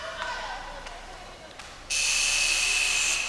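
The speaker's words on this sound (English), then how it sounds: "the buzzer sounds" An underwater rugby match buzzer blares suddenly partway through, a loud, sustained electronic tone that holds to the end after a stretch of quieter ambient noise from the pool.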